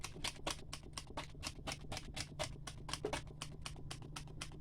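Chicken with garlic, kaffir lime leaves and Chinese kale is stir-fried in a wok, with brisk, regular spatula scrapes about four per second over a faint steady hum, and no talking.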